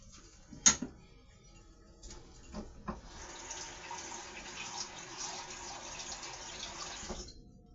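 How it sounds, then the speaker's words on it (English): Water runs steadily from a tap into a pot for several seconds after a few clinks and knocks, then cuts off. "And I always like to add water in my pot."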